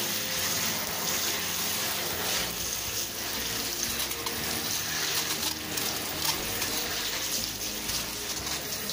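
A shower stream rinses soapy orchid leaves and flowers, a steady, fairly soft hiss and patter of running water that continues throughout without talk.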